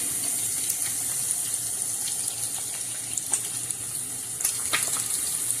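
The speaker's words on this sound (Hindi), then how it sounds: "इतनी ज़बरदस्त ये फ्राई हो रही है।" Fish frying in a pan for a fish curry gives a continuous hiss and sizzle, steady and close, with scattered small pops and crackles and no talk over it.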